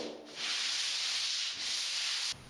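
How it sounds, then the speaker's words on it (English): Steady abrasive sanding on dried drywall joint compound in an inside corner, a continuous close scratching hiss in two long strokes with a brief dip between, no voices. "sand off some of the rough spots"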